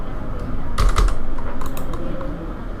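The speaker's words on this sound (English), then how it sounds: "I'm just typing here" Keystrokes on a computer keyboard while entering a spreadsheet formula, a quick cluster of clicks near the one-second mark over a steady hum, close and fairly loud, with no voices.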